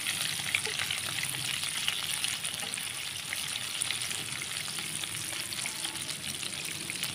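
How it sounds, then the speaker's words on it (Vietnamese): Cabbage frying in a pan gives a steady, close sizzle with faint stirring scrapes, continuous throughout and with no one talking over it. "Bây giờ mình chiên có muốn xong không bạn?"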